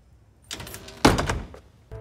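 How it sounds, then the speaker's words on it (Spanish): An apartment door swings and shuts with one solid thunk, preceded by a softer scrape or handle movement and followed by a faint knock, close by with no voices. "Y cierra la puerta para siempre."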